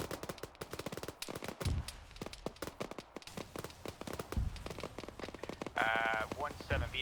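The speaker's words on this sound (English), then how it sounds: "Be advised, enemy autocannon bearing 100 straight east from our position." Enemy autocannon fire in a military video game, a steady run of rapid, sharp repeating shots across the whole stretch, loud and close, with voices talking over it at times.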